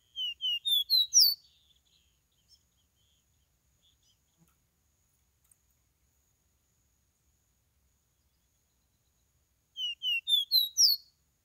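A caboclinho, or capuchino seedeater, calls in the field: a quick series of high, thin chirps at the start and a matching series near the end, with near silence between.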